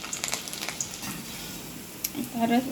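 Fenugreek seeds and garlic cloves sizzle in hot oil for Kathiyawadi bhindi shaak, a short crackling fry heard at moderate level with a voice speaking over it.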